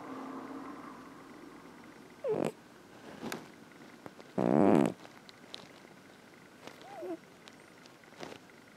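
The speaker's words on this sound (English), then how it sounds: "My cat is snoring." Cat snoring indoors, soft low wheezing breaths with a couple of louder rasping snorts in the middle, near and faint over quiet room noise.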